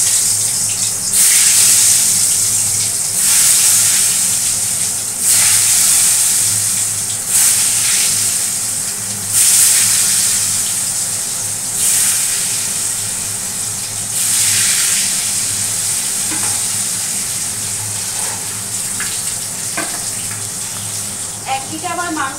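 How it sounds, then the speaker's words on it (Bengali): Meat-curry potatoes dropped into hot oil in a kadai, a loud, steady hissing sizzle that surges and eases in repeated waves, with a voice talking faintly beneath it. "আর এই কড়াইতে দিয়ে দেই এই মাংসের আলুগুলো।"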